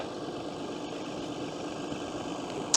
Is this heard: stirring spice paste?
no